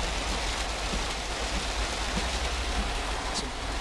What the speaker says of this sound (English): Some pretty crazy rain.